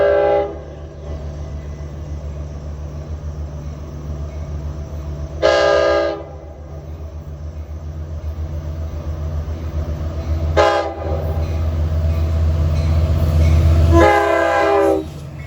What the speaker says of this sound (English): approaching Locust Avenue eastbound is train 2772, en route from Jamaica to Patchogue